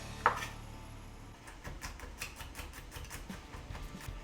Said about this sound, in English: So I'm just going to slice this garlic up fairly quickly.